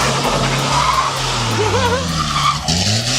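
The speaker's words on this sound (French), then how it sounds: "Transition voiture de drift." A drifting car screeches its tires in long, loud squeals over a heavy engine roar. The skid pitch wavers up and down, and a voice can be heard in the background.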